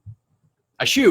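A sneeze bursts out loudly near the end after a faint short sound and near silence, followed straight away by a voice.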